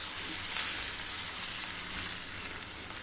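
Mutton frying in hot oil with browned onions over a high flame, a steady close hiss and sizzle that holds even and loud for the whole stretch.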